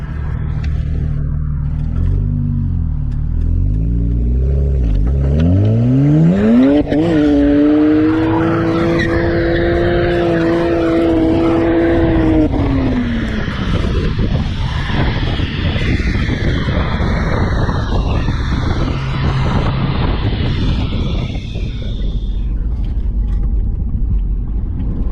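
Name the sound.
tuned BMW 335i accelerating through a corner in third gear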